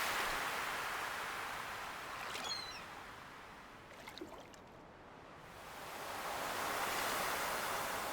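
Broad, steady wash of ocean surf on a beach in the farming game Stardew Valley, swelling and easing in slow waves, with a brief quieter dip in the middle, no talk.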